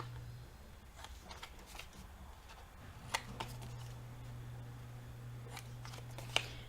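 Soft scissor snips trimming the corners off paper for a wallet flipbook, a few quiet, close cuts spread across the moment over a low background hum, with one sharper snip near the end.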